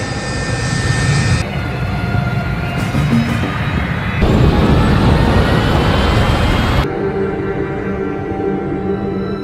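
A Barito Airlines airliner taking off in a film scene, bound for America: a loud, steady jet roar that swells and shifts across several abrupt cuts before ending on a quieter engine hum.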